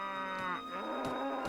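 Cattle moo in the video game Mount & Blade: Warband, with one long, loud, drawn-out low bellow up close and faint ambient rustle behind it.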